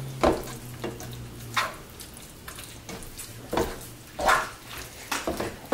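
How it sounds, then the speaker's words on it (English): A spoon stirs Hamburger Helper in a pan on a stovetop that has just been switched off. The scraping strokes come at irregular intervals over a faint, steady sizzle, close by with no one talking. "Stir it up"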